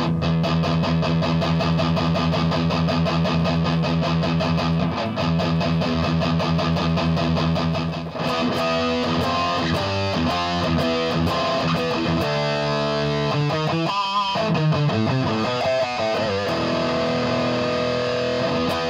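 An electric guitar plays heavily distorted chords and riffs through a high-gain amplifier setup in a studio, with the tone shaped by amp equalization, loud and continuous with dense, buzzing sustain and choppy rhythmic passages.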